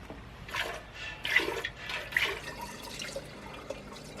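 Milk from a cow streams and splashes into a bucket in uneven surges, close by and moderately loud, with no talking.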